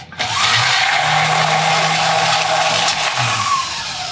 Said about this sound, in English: we are going to mix this one with a Hamilton Beach mixer